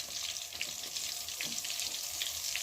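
Turmeric with garlic, pepper and ginger frying in hot oil for a Jamaican country-style chicken curry, a soft steady sizzle with light crackles and stirring, fairly quiet and close.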